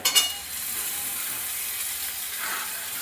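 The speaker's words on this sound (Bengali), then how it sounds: "লাল লাল করে ভাজা হয়ে যাচ্ছে টমেটোর টুকরো দিয়ে দিলাম" Tomato pieces fry in a pan for a green jackfruit and coriander curry, giving a steady, close, bright sizzle throughout, with a few quick clatters right at the start.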